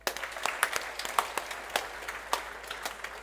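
Scattered audience applause at an academic project presentation event, moderately loud with sharp individual claps standing out over a steady wash of clapping, no voices.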